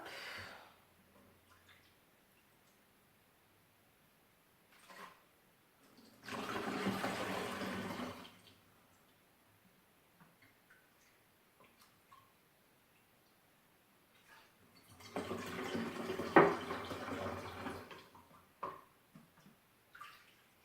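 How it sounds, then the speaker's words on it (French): Vinegar, 800 ml of it, poured into a bottle for homemade fabric softener, in two long liquid gushes separated by quiet pauses, with small handling clicks and taps between them. "Donc là, on va mettre 800 ml de vinaigre."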